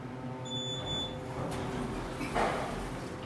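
A short electronic beep chimes twice in quick succession, thin and high-pitched, over a low mechanical hum inside a KONE MonoSpace scenic elevator in a parking garage in Akron, Ohio.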